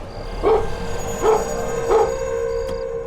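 A dog barks three times at an even pace, close and clear, over a steady electronic hum.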